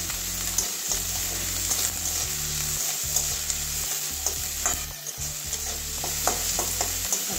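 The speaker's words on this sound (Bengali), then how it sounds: "একটা সুন্দর গন্ধ আসা পর্যন্ত ভাজবো, পেঁয়াজের কাঁচা গন্ধটা যাওয়া পর্যন্ত ভেজে নেবো।" Onions fry in a pan with salt and chilli while being stirred, giving a steady sizzle with repeated scraping strokes of the spoon roughly every second, close and continuous.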